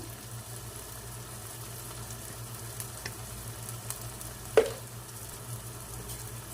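Chilli and coriander powder frying in a pan for egg curry, with a low steady sizzle and a few soft stirring scrapes, one sharper clink near the end, no talking.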